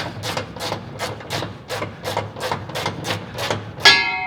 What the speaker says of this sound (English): fancy reversing ratchet